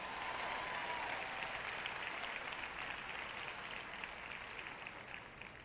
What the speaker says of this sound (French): Quelqu'un devrait applaudir parce que je prêche bien aujourd'hui.